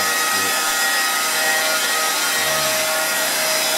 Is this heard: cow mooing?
no